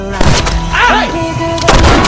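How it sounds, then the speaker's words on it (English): A gunshot in a dramatic TV scene, a loud burst at the start with a booming tail, set amid dense music and effects with no clear speech. "He shot James."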